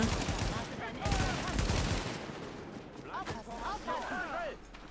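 Bursts of gunfire crackle amid a busy soundscape in the video game The Division, with rapid shots early on and scattered chirpy effects later, heard under a talking voice.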